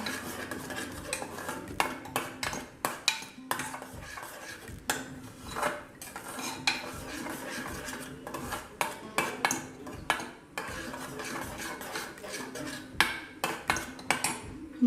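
Spinach roasting in a pan without oil, stirred constantly: repeated metallic scrapes and clinks of a utensil against the pan in uneven bursts over a faint sizzle, close up.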